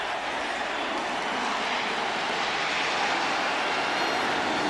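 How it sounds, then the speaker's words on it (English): Blue Angels jets flying over a Bills–Bears football game, a loud, steady broadband roar filling the whole moment with no talking. "You got the Blue Angels flying overhead"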